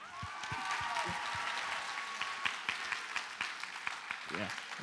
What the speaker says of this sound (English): Can we get a clap for the momager over there?